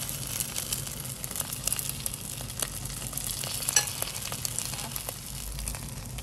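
Butterfly pea flowers are stir-fried in a pan, a loud close crackling sizzle with frequent dry scraping and rustling from the stirring.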